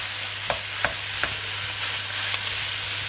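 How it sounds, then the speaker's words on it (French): Ground beef browning in olive oil in a pan, a steady loud sizzle with a few sharp utensil clicks and scrapes near the start, close by and without speech. "Je rajoute un petit filet d'huile d'olive pour faire revenir les viandes."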